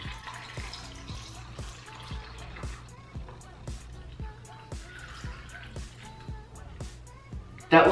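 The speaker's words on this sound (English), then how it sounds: "it says to pour the milk mixture on top" Milk mixture poured over iced coffee in a cup filled with ice for a homemade pumpkin spice latte: a soft, steady trickle of liquid with light clicks of ice, fairly faint, while a person talks.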